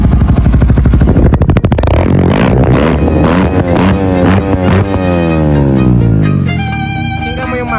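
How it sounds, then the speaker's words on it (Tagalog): A car engine fitted with upgraded 5.5-lift camshafts revs loudly up close, its pitch sweeping up and down through several swells before settling into a steady idle. "Pakinggan mo yung makina."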